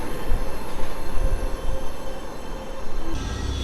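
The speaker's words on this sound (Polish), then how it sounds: "Jedzie Elf na linii S2 do stacji Warszawa Lotnisko Chopina." A PESA Elf electric multiple unit on the S2 line rolls through Warszawa Zachodnia station with a steady, loud rumble of wheels on rails and faint squeal, continuous throughout and no voices.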